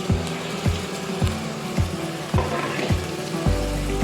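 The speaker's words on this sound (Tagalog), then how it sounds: "Next po natin dito guys ay lagay natin ang ating chicken breast." Chicken breast dropped into a pan with onions, frying with a steady sizzle, punctuated by regular clanking thumps about every half second, close and fairly loud, with no talk.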